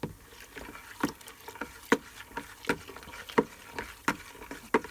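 Blackberry wine must with yeast being stirred to break up the fruit, a series of sloshing, splashing strokes in a roughly regular rhythm, close up with no talk.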